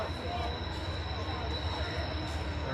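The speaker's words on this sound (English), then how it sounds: "Okay, you got a train coming." A train approaches near a baseball field during a high school game, a continuous low rumble with faint squealing tones, heard steady and fairly loud while talk goes on.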